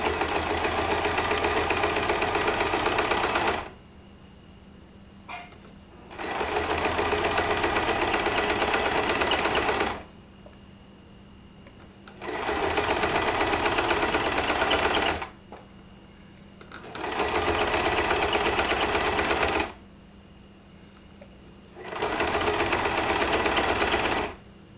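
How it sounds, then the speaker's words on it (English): Sewing machine stitching a zippered tote on the longest stitch length, running in five loud sustained bursts separated by short pauses, with no talking. "I always sew with my stitch on the longest length because it's faster"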